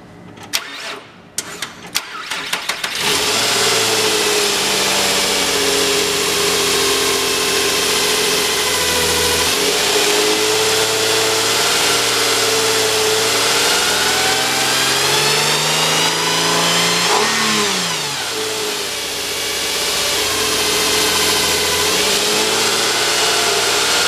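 A 2005 Nissan Quest engine cranks with a few quick bursts, catches and then runs loud and close, holding a steady high rev with a brief dip and climb partway through.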